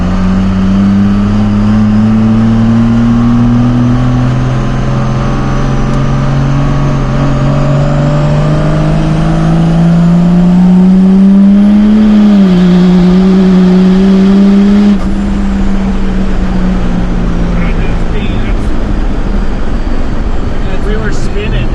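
Truck engine revving hard during a fuel line comparison test, a loud sustained drone rising and falling in pitch with tire spin noise mixed in, close up, with voices talking underneath.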